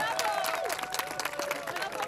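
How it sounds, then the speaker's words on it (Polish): A crowd in Park Wolności claps and cheers for a runner who has just set a Polish record of over 272 km, brisk applause close by with a voice talking over it. "Wielkie brawa dla Andrzeja!"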